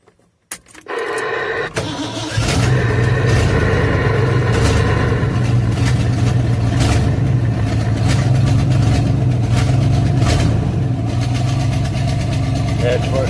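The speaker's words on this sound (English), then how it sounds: "That's the first time even having it running at all today. The idle's down a little bit too low." A truck engine cranks over after the throttle is pumped, catches after a couple of seconds, then settles into a loud, steady, somewhat low idle close by, while someone talks over it.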